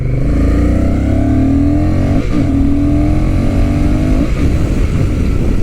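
Honda Rebel 1100 motorcycle accelerating hard, loud and close, its engine note climbing steadily through two gear shifts with brief dips in between, continuous with no talking.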